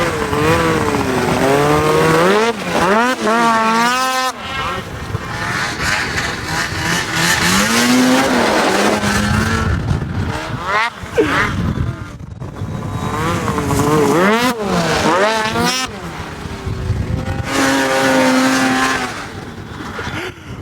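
A side-by-side utility vehicle plows through slush, its engine loud and revving, rising and falling in pitch through repeated accelerations, with some splashing under the roar.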